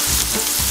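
Fried rice with egg and rice, seasoned with a garlic and scallion flavor paste, stir-fried over maximum high heat, giving a brief, loud, close crackling sizzle.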